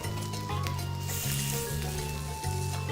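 A prawn laid onto a hot oiled non-stick pan sizzles steadily and close, a constant frying hiss with faint kitchen clatter and no talking.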